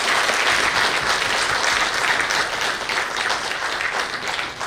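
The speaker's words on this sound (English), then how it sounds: "huge round of applause" An audience at a Delhi High Court ceremony breaks into a big round of applause, dense sustained clapping from many hands that holds steady and fades slightly toward the end.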